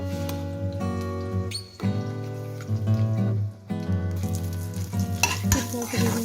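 Mustard seeds, cumin, dried red chilli and curry leaves sizzle and crackle in hot oil for a coconut chutney tempering, with steady frying hiss, popping seeds and stirring clatter close by, with no talk.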